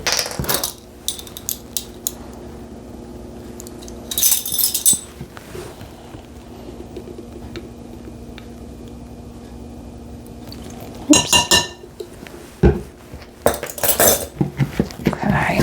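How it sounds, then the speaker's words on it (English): Peanut butter buckeye mixture with pure vanilla extract being stirred in a bowl, with intermittent clinks and scrapes of a utensil against the dish separated by quieter pauses. "We'll go ahead and give that a stir."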